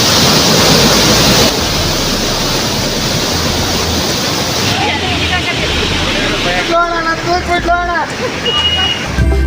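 Roaring water at Singatalur dam, a loud continuous rushing wash that drops somewhat partway through, with someone talking over it and some birdsong near the end.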